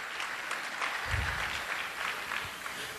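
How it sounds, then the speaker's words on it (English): An audience at a high school honor roll ceremony applauds, a dense, even wash of many hands clapping at moderate loudness, steady for the whole stretch with a brief low thump partway through. "Let's give them a round of applause"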